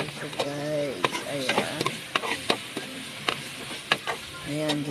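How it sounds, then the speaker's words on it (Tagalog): Chicken being sautéed and stirred in a pan for sotanghon soup, with a steady sizzle and repeated scraping stir strokes, plus scattered spoon clinks and some background tonal noise throughout. "Ayan, igisa-gisa yan, halo-halo."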